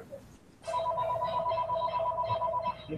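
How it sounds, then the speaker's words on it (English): A telephone rings with a steady electronic warbling tone, loud and continuous after a brief quiet start, with faint background room noise and no talk over it. "Is that Dennis's phone? Oh, that's Charles' phone."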